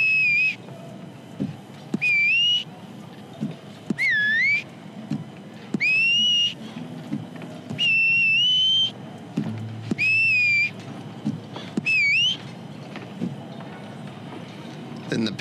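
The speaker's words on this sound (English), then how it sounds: "So then we're into our whistle, which allows us to whistle up our horse" A Red Dead Redemption 2 character whistles to call a horse: a run of about nine loud, clear whistles, some rising and swooping, others held steady, repeating every second or two over soft clopping and quiet background.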